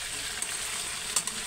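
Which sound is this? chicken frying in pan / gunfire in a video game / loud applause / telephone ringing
chicken frying in pan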